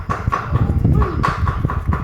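Horse hooves clip-clop in a quick, steady rhythm of loud, close knocks over a low rumbling background.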